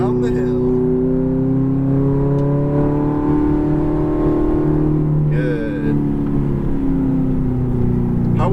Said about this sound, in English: Pick up your throttle, accelerate through here.